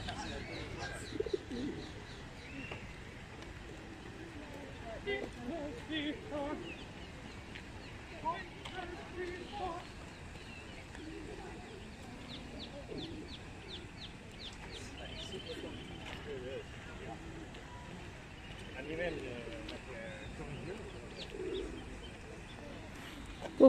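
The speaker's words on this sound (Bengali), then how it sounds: "কবুতর সব জায়গায় আছে।" Pigeons coo outdoors at Buckingham Palace in London, with soft repeated calls and chirps scattered over a long stretch against a bustling background where people talk faintly.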